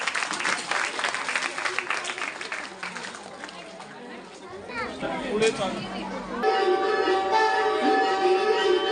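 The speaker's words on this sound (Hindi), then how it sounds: "जोरदार तालियों से उनका स्वागत करें।" Loud applause from a crowd welcomes young children to a dance performance at a school annual function and prize distribution. Dense clapping fills the first half, then fades as chatter and music with a steady tone take over.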